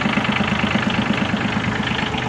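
A Mitsubishi MTX13 compact mini tractor engine idles steadily, giving a close, continuous low throbbing rumble with an even rhythmic knock throughout and no voices.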